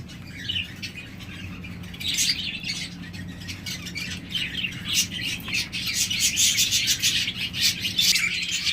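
A pair of golden finches kept for sale gives a busy, continuous run of high, thin chirps and tweets, fairly close and growing denser and livelier toward the end, with no talking over them.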